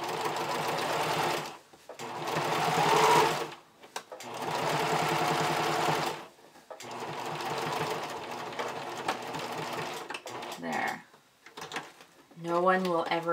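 A sewing machine topstitches a seam on an underwired bikini top in several close, loud bursts of rapid whirring, each separated by brief pauses, with fabric handling sounds near the end.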